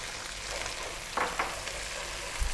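Garlic ginger paste and fresh chili frying in a pan, a steady close sizzle with a few brief bursts of stirring, no talking.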